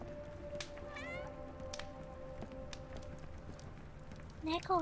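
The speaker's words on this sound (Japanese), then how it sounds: "猫がいるんじゃないか。" A cat meows several times in the video game Sherlock Holmes The Awakened, short rising cries heard early and again louder near the end over a steady ambient hum.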